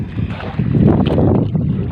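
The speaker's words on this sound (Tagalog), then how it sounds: "yung ating hangin ay amihan" Strong northeast monsoon wind buffets the microphone in a steady, loud rush, mixed with the churn of a fishing boat moving over open sea.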